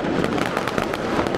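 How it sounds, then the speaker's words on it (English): New Year fireworks bursting all around a Munich balcony, loud and dense, with rapid overlapping cracks and bangs crowding together over a continuous roar of distant explosions. "It feels like bombs exploding left, right and center right on my balcony."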